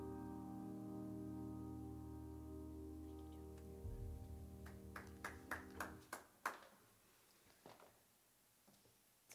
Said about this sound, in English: I guess the sound of one person clapping is not what you're looking for.